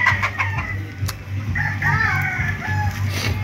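Several chickens cluck nearby in short, overlapping calls, with a drawn-out rooster-like call rising partway through.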